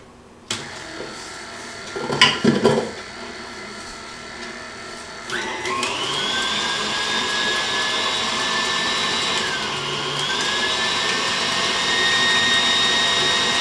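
An electric mixer whirs up and runs with a steady, loud motor hum while mixing peanut butter cookie dough. A few knocks and thumps come first.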